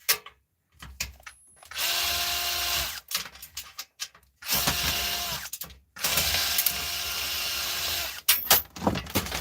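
A power screwdriver removes two screws from the back of a device, running in two long whirring bursts with short clicks and handling noises between them.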